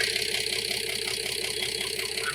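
The engine of a fire truck converted into a camper runs at a steady idle with a rhythmic, slightly knocking pulse, close by and continuous with no talking.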